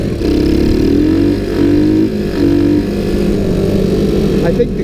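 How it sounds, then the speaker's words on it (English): A $25 Sunl 110cc three-speed ATV with a slipping clutch revs loudly, its engine pitch climbing in several repeated surges before settling back to a steady drone. "It seems the engine speeds up and the bike"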